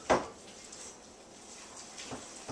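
A spoon stirs cornbread batter in a bowl, giving a sharp clink at the start, a quiet soft scraping, and another light clink near the end.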